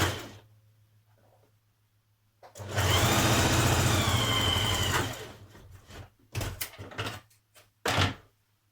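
A sewing machine runs in one steady, loud burst of about two seconds as it stitches a side seam on a stretch-fabric Bibi skirt, then gives several short, choppy bursts as the stitching stops and restarts.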